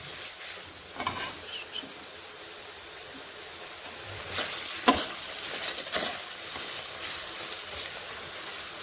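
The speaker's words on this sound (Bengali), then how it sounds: "এখন মশলাটা তেলটা একটু ভাজা ভাজা করে নিই।" A spice mixture frying in oil for a rohu fish curry gives a soft, low sizzle. Now and then a louder scrape or clatter of stirring cuts through.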